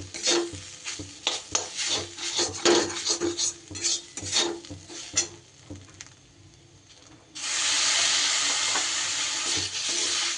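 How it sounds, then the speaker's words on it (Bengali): Gram flour batter is stirred with water in a kadai for a bitter gourd recipe, giving a run of rapid scraping, clattering strokes; after a short lull, a strong, steady hiss takes over to the end. "অল্প অল্প করে জল দিয়ে এইভাবে বেসনটা মিশিয়ে নিতে হবে"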